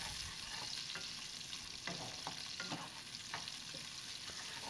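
Onions fry in oil in a kadai, a steady close sizzle with faint stirring scrapes now and then, continuous and without voices, while chicken curry is being made.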